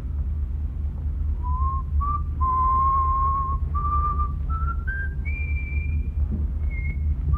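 Someone whistles a slow, wandering tune of held notes that climb gradually in pitch, clear and close over a low rumbling background.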